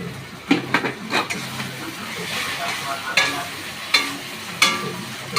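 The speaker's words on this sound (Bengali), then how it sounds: "ভালো করে কষিয়ে নেবো, কষাতে কষাতে তেল বেরিয়ে যাবে একটা, তখন আমরা মাংসগুলো দিয়ে দেবো।" Spices and chopped tomato cooked down in oil in a pan for a chicken and pork dish, with a steady sizzle broken by repeated sharp spatula scrapes and clanks against the pan.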